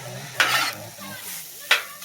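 Hibachi fried rice sizzles on a hot griddle, with two sharp scraping stirs of a spatula over a constant frying hiss, heard up close with no talk.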